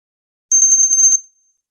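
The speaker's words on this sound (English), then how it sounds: "We'll begin with the ringing of the bell." A single meditation bell struck once, a bright sustained high ring with a slight shimmer that rings for under a second and then fades quickly into silence.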